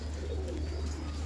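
A kaminjar pigeon coos softly, a brief low murmuring call close by over a steady low background hum.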